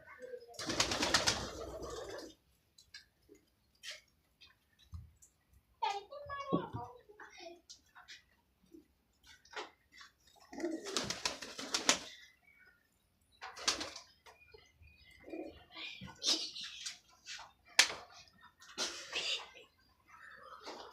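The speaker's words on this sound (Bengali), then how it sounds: "এটা কবুতর ঘর" Pigeons coo softly in short bursts inside a pigeon house shared with goats, interspersed with rustling, fluttering and occasional quiet human voices close by.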